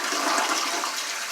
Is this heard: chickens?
no